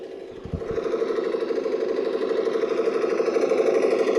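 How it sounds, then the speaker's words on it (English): A rapid, steady electronic rattle of toy machine-gun fire from a LEGO tank model runs continuously, buzzing and mechanical, fairly loud and close with no pauses. "So now let me give you a machine gun sound."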